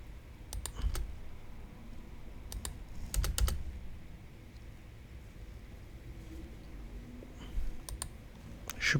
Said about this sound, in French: Je vais cliquer là.